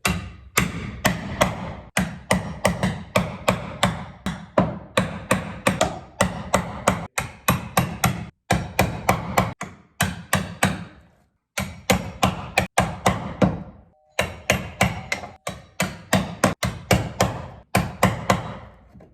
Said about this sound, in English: So we are just gonna use a chisel.